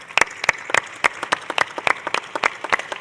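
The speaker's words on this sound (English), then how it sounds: "I think that merits an applause." Scattered clapping from a small audience at a tourism sustainability panel, individual sharp hand claps in an uneven, loose rhythm, fairly close and clear.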